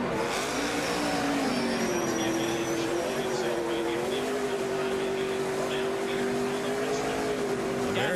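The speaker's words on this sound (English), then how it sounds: "You see Brad Keselowski still doing his burnout down there." A NASCAR race car does a burnout after a 2017 race at Richmond, its engine holding a steady, sustained roar with slight pitch swells throughout, while crowd noise fills the background.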